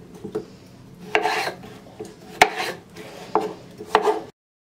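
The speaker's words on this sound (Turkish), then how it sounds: "Salatalıkları da küp küp olacak şekilde doğrayacağım." Repeated knife strokes chop cucumbers and peppers on a cutting board, each sharp tap followed by a brief scraping rasp, close and steady.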